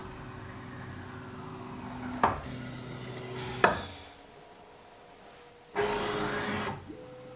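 A fanless PrintrBot Simple Metal 3D printer runs a Z-probe calibration, its stepper motors whining in steady tones that shift pitch between moves. Sharp clicks sound as the probe touches down, ending in a final burst of motor noise up close.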